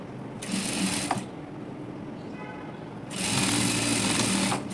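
Electric sewing machine stitching a frill sleeve with a single presser foot, running in two steady, fairly close bursts of whirring with a quieter pause between them.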